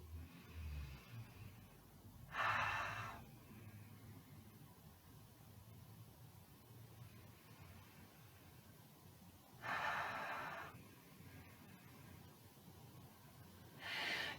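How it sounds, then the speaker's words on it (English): A soft, airy rasping breath drawn at the back of the throat during yoga, ocean-like, in two long exhales several seconds apart and a third starting at the end, quiet against near silence. "at the back of the throat, there's a lovely light rasping sound, which does sound like the ocean"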